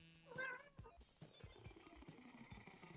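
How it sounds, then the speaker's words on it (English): A pet cat lets out a short, clear meow near the start, followed by soft, low purring and faint rustling at close range, all quiet. "You can hear my cat."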